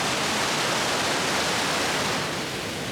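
A waterfall in Banff National Park pours just below a rock ledge, a loud, close, unbroken rushing roar of falling water with no voices.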